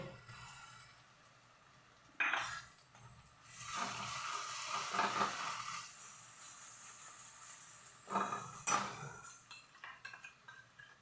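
Garlic paste frying with light pink onions in a pan over a low gas flame, a steady soft sizzle broken by bursts of stirring and metal clinks against the pan, no voices.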